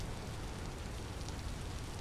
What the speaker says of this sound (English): But man, we're being hammered by the rain, aren't we?